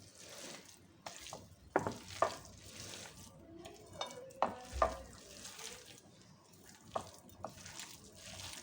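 Jackfruit kofta mixture is mashed and mixed by hand with Kashmiri chili powder, giving soft wet squelching and stirring sounds with a few sharper clicks, close and fairly quiet, with no talking.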